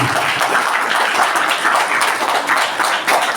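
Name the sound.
audience applause welcoming Divyanshi and Chhavi on stage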